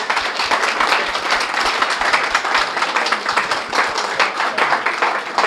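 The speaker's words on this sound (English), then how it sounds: "Give it applause." Dense audience applause from many hands fills the whole stretch, steady and fairly loud, with a broad wash of overlapping claps and no talk over it.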